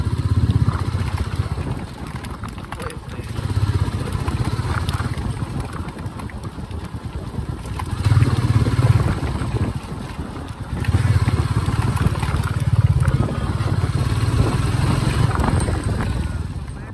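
A Royal Enfield Meteor 350 motorcycle rides on an evening road near Badu, its low engine drone rising and falling with throttle under heavy wind rush across the microphone.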